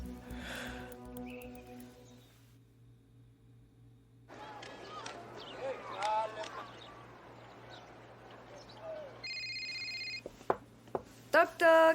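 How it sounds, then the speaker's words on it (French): An electronic telephone ring sounds in bursts after a stretch of quieter background noise, with a few sharp clicks near the end. "mais réponds à ton téléphone, voyons"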